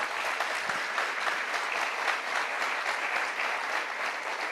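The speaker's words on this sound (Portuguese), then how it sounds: "Você pode aplaudir ao Senhor por isso?" A church congregation at a celebration service claps for the Lord, a continuous, fairly loud roll of many hands with a steady texture throughout.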